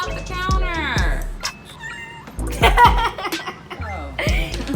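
A house cat meows several times from a kitchen counter, rising and falling cries that overlap with loud, excited talk and laughter nearby.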